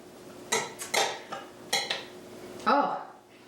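A utensil stirs red wine vinegar, garlic and Italian seasoning in a bowl, making a few close, distinct metallic clinks and scrapes in an uneven rhythm, with one louder scrape near the end.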